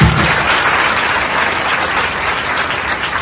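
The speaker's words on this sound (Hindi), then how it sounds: "हमारे डीआईजी परवेज अख्तर सर के लिए जोरदार ताली।" An audience at a stage ceremony claps loudly in a dense, steady burst of applause that lasts the whole moment, with no voices standing out.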